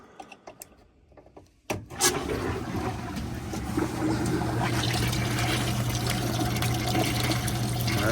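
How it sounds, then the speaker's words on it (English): A pump switches on with a thump and drives flushing solution through a tankless hot water heater into a bucket. Steady close churning, gurgling water follows with a constant low hum, after a few soft handling clicks. "Now we're just gonna plug in the pump."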